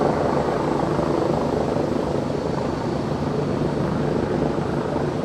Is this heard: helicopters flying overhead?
yes